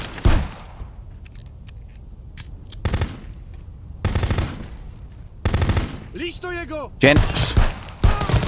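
Several sharp gunshots ring out in bursts across the Contraband Police game scene, spaced irregularly and loud, with a brief spoken word and some metallic ricochet-like whine between shots.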